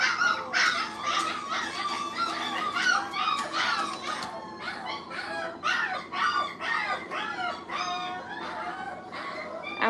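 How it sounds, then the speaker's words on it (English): Puppies bark and yip in rapid, overlapping bursts throughout, loud and fairly close, with occasional squeals between barks and no speech over them. "You can hear the puppies in the back."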